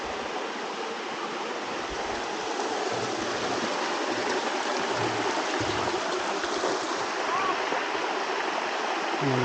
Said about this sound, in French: Et voilà la cascade.